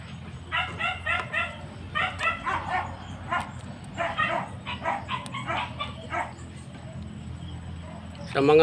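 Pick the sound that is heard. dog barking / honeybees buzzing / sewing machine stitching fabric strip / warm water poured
dog barking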